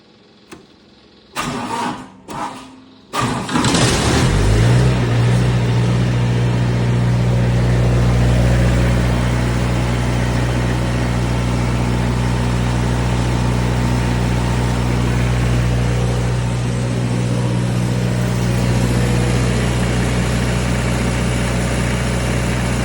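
Miller D550 generator engine cranks in a few short bursts, catches and settles into a loud, steady running drone while loose junk on top jiggles and rattles throughout.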